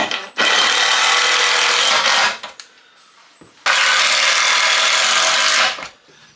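A power drill drives screws into a wooden garden bench in two loud, whirring bursts of about two seconds each, separated by a quiet gap with faint handling clicks.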